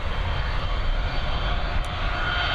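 A Lufthansa Airbus A320 departing Dublin Airport for Munich, its engines a steady loud roar with a broad rushing hiss, continuous through the short stretch with no voices.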